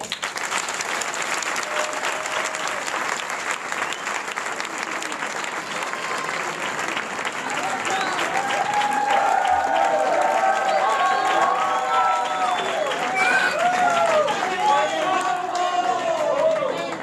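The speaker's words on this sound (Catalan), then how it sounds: "Un fort aplaudiment per al Pere i la Maria José." Loud applause and cheering from an audience at a secondary-school graduation ceremony, steady clapping that swells midway, with excited voices and shouts rising through the crowd noise.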